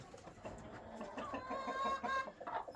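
A white crested rooster on a farm clucks in short repeated bursts, close and clear, with a few rising squawky notes and no talking.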